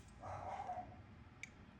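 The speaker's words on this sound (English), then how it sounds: "Harry and Matt decided to bark for us" Two dogs bark faintly in the background, with a short muffled burst of barking followed by a brief sharp yip in an otherwise quiet room.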